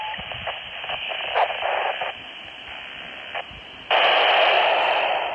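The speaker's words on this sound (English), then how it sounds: "see if we can receive the repeater aboard the ISS space station" A handheld radio on its stock antenna picks up the International Space Station repeater, giving steady hiss and static with bursts and shifts in the signal, ending in a louder stretch of noisy reception.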